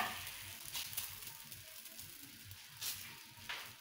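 A chapati lands on a hot pan and cooks with a soft, faint sizzle and light crackling, close and quiet with no talking.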